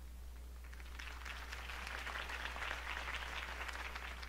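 Faint applause from a crowd in the video game Batman: The Telltale Series, a soft wash of clapping that swells slightly, heard at a distance over a low steady hum.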